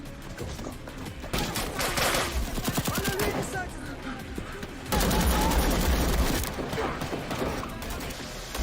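Rapid bursts of gunfire from a combat scene against Taliban fighters on a dangerous sniper mission, with dense overlapping shots that surge loudly in two waves, close and harsh.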